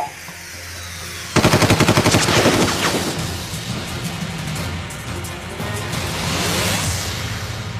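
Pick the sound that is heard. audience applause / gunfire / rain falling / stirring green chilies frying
gunfire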